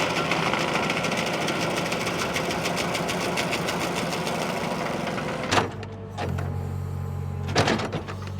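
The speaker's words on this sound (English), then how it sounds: "it's fun to watch the cutting wheel" A stump grinder's cutting wheel chews into a tree stump, a loud, steady mechanical whir with rapid rhythmic chatter that briefly cuts out twice near the end before surging back.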